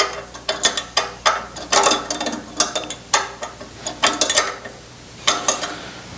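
Ratchet wrench tightening a bolt on a Porsche 356 engine during assembly, a series of quick rasping clicks in short bursts with brief pauses, close and clear with no talk.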